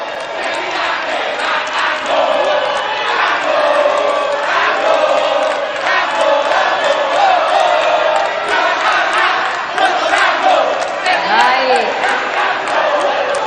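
Large crowd of supporters at a gubernatorial debate in Marina Convention Center cheers, whoops and shouts continuously and loudly, a dense roar with some clapping mixed in throughout.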